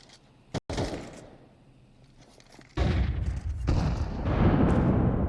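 A grenade detonating during a Counter-Strike esports match: a sharp crack near the start, then a quieter stretch before a heavy, sustained blast of noise rolls in and stays loud to the end.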